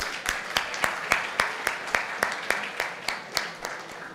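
Scattered clapping from an audience at an innovation and entrepreneurship panel discussion, a few distinct claps in a loose, steady rhythm at moderate distance, fairly quiet.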